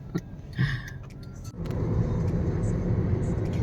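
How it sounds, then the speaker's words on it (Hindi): A car drives fast toward a hotel, first as a quieter cabin hum with a voice and a few knocks, then as a steady, louder road-and-engine rumble that holds to the end. "बस गाड़ी चल रही है तेजी में होटल की तरफ"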